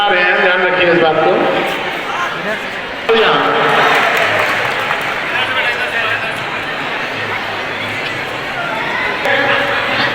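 Applause for a student at a school annual awards ceremony at an inter college in India: steady, dense clapping from a large crowd that runs the whole time, loud and close, with someone speaking over it on a microphone.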